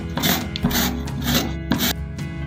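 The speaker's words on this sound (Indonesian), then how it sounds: "Nih kita parut dulu ya." Fresh melon is scraped over a grater for an iced melon drink, with repeated rhythmic rasping strokes, about five passes, close and fairly loud with no talk.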